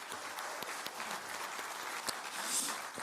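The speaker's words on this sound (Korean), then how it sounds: "박수 한번 칠까요?" Faint, distant applause from a party gathering welcoming local and regional government heads, a soft continuous clatter of many hands with scattered sharper claps.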